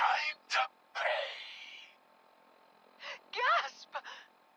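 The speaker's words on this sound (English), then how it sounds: "Gasp!" A character in the video game Fallout 4 gives sharp breathy gasps in short bursts, separated by a quiet pause, with voiced sounds between them.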